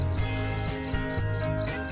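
A breeding box of crickets gives off a steady run of evenly spaced chirps, close and clear, with no voices present.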